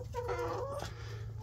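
A broody hen gives a short, close clucking call over a steady low background hum, a brief throaty run of notes lasting about a second.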